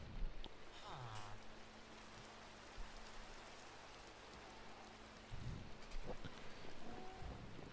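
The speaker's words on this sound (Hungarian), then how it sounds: "aludjunk, hogy ne legyen vihar" Rain falls during a thunderstorm in the video game Minecraft: a steady, faint hiss of rain throughout, with a low distant rumble of thunder underneath.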